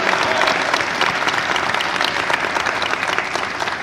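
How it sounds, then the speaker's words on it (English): Audience at a Jackson State University women's basketball coach announcement breaking into sustained, even applause, a dense wash of clapping that holds steady throughout with only faint crowd murmur beneath. "Let's give him a big round of applause."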